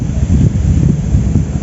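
Strong wind buffets the microphone during solo tilapia and carp fishing, a steady low roaring rumble that fills the whole stretch with no pauses and no voices.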